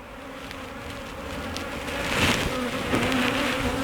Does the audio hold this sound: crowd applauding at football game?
no